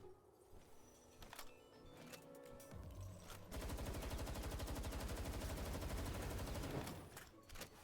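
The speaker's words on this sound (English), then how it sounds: "I'm gonna start off with a shotgun blast" Gunfire in the video game Palworld, shotgun blasts followed by a long rapid burst of automatic fire, loud and continuous with scattered sharp shots before and after.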